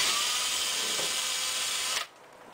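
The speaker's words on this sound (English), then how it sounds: "Just drill my first hole." A power drill bores a hole while a Dixie Narco bottle rack tray is installed: a steady high whine about two seconds long that stops abruptly, close and fairly loud.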